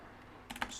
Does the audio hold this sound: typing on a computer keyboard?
yes